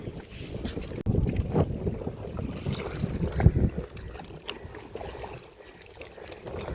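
A boat moves over water through a mangrove forest at Pichavaram, with a low rumbling engine, gusts of wind buffeting the microphone and water rushing past.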